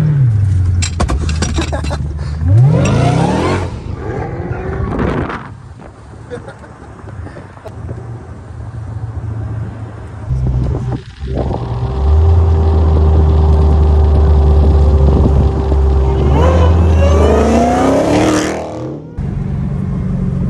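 A Dodge Challenger Hellcat Redeye accelerates hard from the driver's seat, its engine revving loudly in rising sweeps, dropping to a rumbling idle, then surging again.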